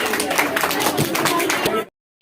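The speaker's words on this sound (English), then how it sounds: "Please have a big hand of applause for all of them." An audience at a student-led school conference applauds a 7th-grade student group with brisk, continuous clapping that stops abruptly into silence, with a brief sound returning at the very end.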